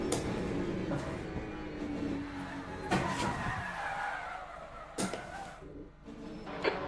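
A race car in the video game Le Mans Ultimate slides on the track, its tyres skidding under a steady engine drone, with a few sharp transient clicks during the slide and no voices.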